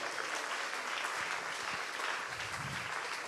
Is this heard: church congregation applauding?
yes